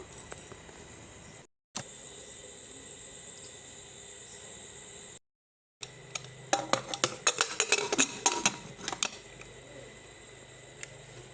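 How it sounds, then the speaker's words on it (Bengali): A spoon stirs food in a cooking pot with water just added, making a cluster of metallic scrapes and clinks in the latter half. Quieter room hiss and brief silent gaps come before it. "এবার এটা একটু নেড়ে সিটিটা দিয়ে নেব।"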